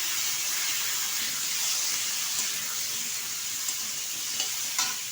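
Bottle gourd and potato pieces frying in oil with ginger and fenugreek, a steady soft sizzle holding evenly throughout with a few faint clinks near the end, no voices.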